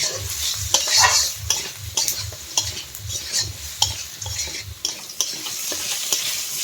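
Cabbage and potatoes stir-fry in a pan for a katla fish head cabbage ghonto, with a loud, close sizzle under quick, rhythmic spoon scrapes and knocks against the metal.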